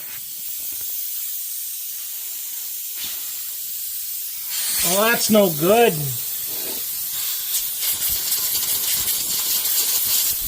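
Air hisses steadily from a punctured trailer tire parked at a seed warehouse, a continuous broadband rush that swells slightly midway while someone speaks briefly over it.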